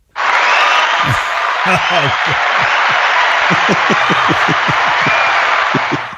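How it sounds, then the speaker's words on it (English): Steady applause from a crowd, loud and sustained throughout, with a voice speaking over the clapping. "And that is the applause for the end, is it?"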